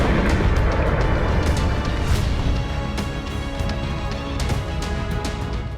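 Continuous heavy rumbling roar with scattered sharp cracks and booms, like distant blasts and impacts, loud and dense throughout with no voices; missile strikes on the Konhar bridge over the Dnipro River near Kherson, Ukraine, during war.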